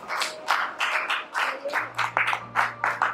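An audience claps in uneven, bursty waves of applause, the rounds rising and falling while a speaker's voice carries faintly over the top.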